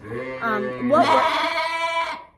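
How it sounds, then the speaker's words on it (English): A goat bleats close by in a long, wavering call, rising into a strained, quavering cry that holds for over a second, while a person talks around it. "if you hear a goat in the background"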